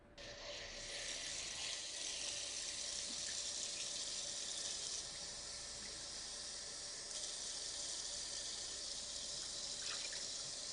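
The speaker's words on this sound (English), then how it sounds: "I put 2 cups of water." Two cups of water poured into a bread mixing bowl for homemade bread, a steady bright hissing stream of running water lasting about ten seconds, close and even, with no speech.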